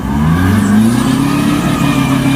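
A heavy dump truck engine revs steadily and loudly up close, its low rumble rising and holding with a droning whine on top.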